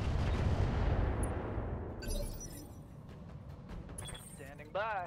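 Booming weapon fire and explosions from battling mechs in the Roguetech game, with heavy low rumbling impacts at first, then lighter scattered shots and a brief warbling tone near the end, played under a talking voice.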